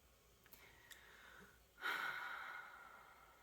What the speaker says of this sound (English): My dog is snoring on the floor.